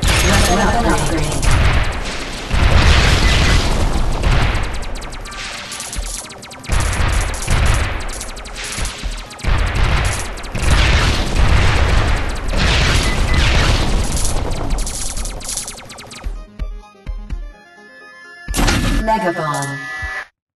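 Megabomb explosions during the final battle of the Android shooter Ace Pilot Girl: heavy booming blasts and dense rapid weapon fire roar almost continuously before cutting out, then a short final burst, with game voice callouts over it.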